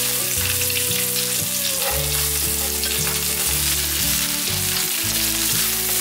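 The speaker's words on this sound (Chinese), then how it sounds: "把香菇炒香" Shiitake mushrooms stir-frying in a pan with coriander stems, a loud constant sizzle with stirring scrapes over steady background music.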